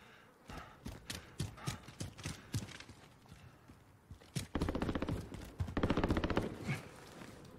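Gunfire in the video game Warzone played on an Xbox One S. Scattered single shots are followed by a dense, loud burst of rapid automatic fire lasting a couple of seconds.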